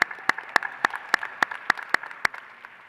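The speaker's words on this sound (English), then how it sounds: "we give you some round of applause" A few hands clap in a slow, steady beat at a university dental medicine postdoctoral graduation ceremony, about nine sharp, evenly spaced claps with a quiet room behind them.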